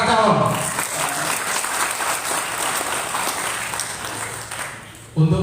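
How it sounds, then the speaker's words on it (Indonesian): Sustained applause from an audience welcoming village head candidates at a local election event, steady and fairly loud, with a voice briefly heard at the very start and end. "tepuk tangan buat para calon."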